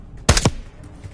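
Game gunfire from Call of Duty Black Ops 6: a short, loud burst of two or three rapid shots close up, standing out against a quiet background.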